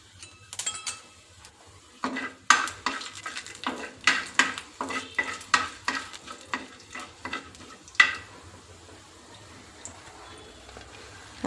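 Chana dal and urad dal frying in hot oil in a pan, with a steady sizzle under repeated sharp scrapes and clinks of a spoon stirring against the metal, close and fairly loud.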